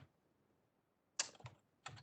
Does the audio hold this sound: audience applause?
no